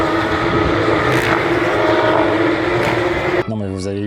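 Porsche race cars at the Barcelona circuit during an ELMS four-hour race roar past under a steady loud engine drone, which cuts to a single clear engine note at the end; a commentator talks throughout.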